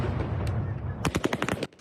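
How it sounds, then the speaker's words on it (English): Rapid burst of gunfire as Russian troops disperse a crowd of protesters in the streets of Kherson, a quick series of sharp cracks following a noisy, rumbling street background. "using gunfire to disperse the crowd"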